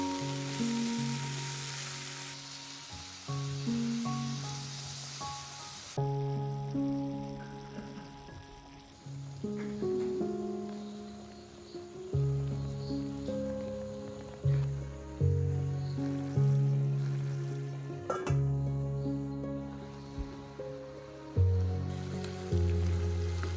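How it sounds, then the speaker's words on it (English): A pot of chicken curry bubbles and sizzles steadily for a long stretch, a continuous wet crackle with soft music-like tones running underneath. "While the chicken is boiling, add some garam masala."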